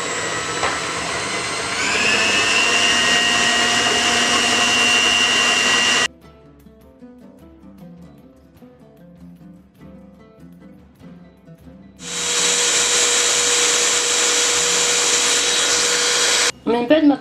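An electric mixer beats dough with added salt and sugar for a strawberry cream tart, whining loudly and steadily in two bursts separated by a quieter pause in the middle.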